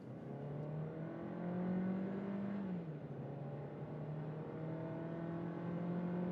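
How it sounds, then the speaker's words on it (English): Seat Arona with a 1.5 liter 4-cylinder engine accelerating from 40 to 100, slightly uphill, heard from inside as a rising engine drone that climbs, dips briefly at a gear change and climbs again. "And now it's time for acceleration from 40 to 100."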